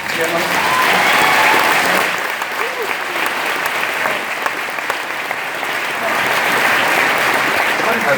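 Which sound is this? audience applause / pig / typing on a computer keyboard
audience applause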